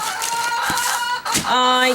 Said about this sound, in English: I know, chicken!